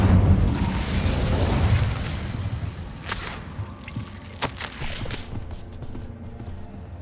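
A fire spell cast in the Hogwarts Legacy game: a loud burst and whoosh of flame at the start, fading into crackling and scattered pops with small magical effects over the following seconds.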